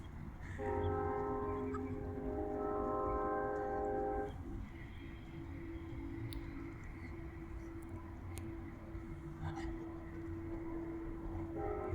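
A train approaches through Cajon Pass, its horn sounding a long chord for several seconds before a steady rumble and wheel noise take over, growing from a distance with faint voices.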